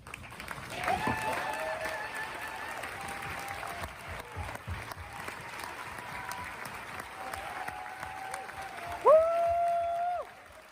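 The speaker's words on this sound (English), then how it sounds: "we can give you a round of applause" Audience applause at a live event, a steady broadband patter of many hands sustained through the clip, with voices murmuring and calling underneath and a brief swell of cheering toward the end.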